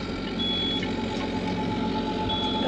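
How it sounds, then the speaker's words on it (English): A boat's anchor alarm beeps in a repeating electronic tone, pulsing steadily over a constant low engine drone, fairly close and even in rhythm. "Sounds like an anchor alarm's going off."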